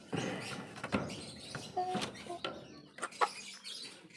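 Roosters and chickens, including Brahma and spare roosters, in a coop, with scattered clucks and short calls at moderate distance amid light rustling.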